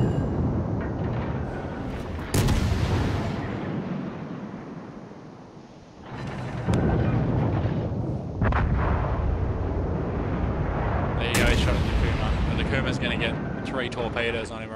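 Warship guns fire in the World of Warships video game, with three heavy artillery salvos, each a sharp crack followed by a long rolling rumble, while someone talks over the battle.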